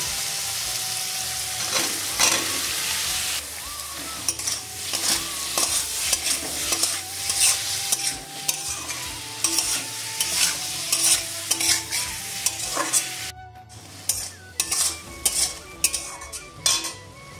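Marinated soybean chunks frying with chilli paste in a pan, a continuous sizzle under busy scraping and clinking of a metal spoon against the pan, close, with rhythmic stirring strokes toward the end.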